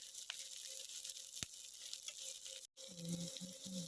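Green chilies frying in hot oil give a steady, close sizzle with a faint kitchen hum, a sharp click midway and a brief dropout before the frying resumes.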